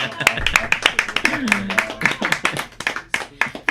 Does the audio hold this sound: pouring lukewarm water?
no